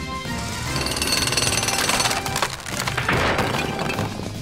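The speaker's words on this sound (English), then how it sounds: "Jackhammer!" Cartoon jackhammer pounding away in a rapid, loud, continuous rattle, with woody splintering and cracking mixed in, from a children's rescue show featuring a construction pup.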